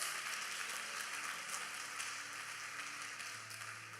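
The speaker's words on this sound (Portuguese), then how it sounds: "Aplauda Jesus." Worshippers in a Rio de Janeiro church fill the room with sustained applause, a faint, uniform wash of many hands clapping. It tapers slightly near the end, with no speech on top.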